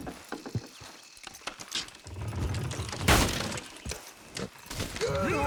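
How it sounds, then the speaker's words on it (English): Horses in Red Dead Redemption 2 haul down a structure: hooves clop and thud, then a loud cracking, splintering crash as it breaks apart, followed by rumbling debris. "Horses will pull it clean down."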